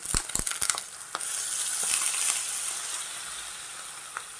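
Paneer sizzles loudly in a hot pan as masala goes in, a steady frying hiss that swells and then fades, opened by a few sharp clinks and scrapes.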